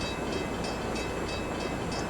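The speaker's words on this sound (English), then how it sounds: "F40PH locomotives" An F40PH diesel locomotive in the Railworks train simulator game runs steadily, a continuous broadband engine and rail rumble with faint repeating clicks, alone without talk.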